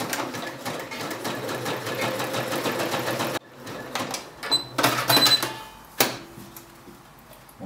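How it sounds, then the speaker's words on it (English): A sewing machine runs a zigzag stitch in a steady rapid chatter, then stops and restarts in shorter bursts with clicks, heard close and alone. "Back at our sewing machine, we'll be opening a zigzag stitch."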